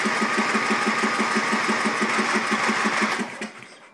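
A Troy-Bilt lawn tractor engine, which has a fuel delivery problem, cranks loud and close with a rapid even mechanical chugging, then the sound drops off abruptly near the end.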